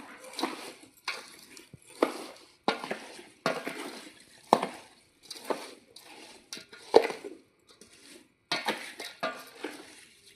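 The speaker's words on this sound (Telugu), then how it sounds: "ఈ మొత్తాన్ని ఇలా తిప్పేసుకోవాలి" Lemon pickle pieces tossed with salt and turmeric, stirred in a bowl: a steady run of close scraping and clattering strokes in separate bursts, with brief pauses between them.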